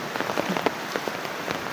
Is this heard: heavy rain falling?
yes